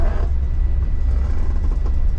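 A bus rumbles low while driving, with a steady mechanical drone and clutch noise running continuously throughout and no voices on top.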